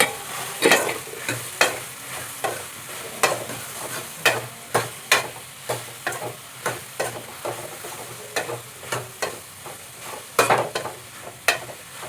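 Cut mushrooms tossed into softened tomatoes in a pan, a spoon scraping through them in steady, repeated strokes over a constant low sizzle, close and fairly loud.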